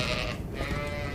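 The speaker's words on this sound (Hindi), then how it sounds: "जरा भेड़ों को बांधने में मेरी मदद कर दो।" Sheep bleat in a cold winter farmstead setting, a steady wavering call running through the whole moment under a dense low rumble of background noise, fairly close and moderately loud.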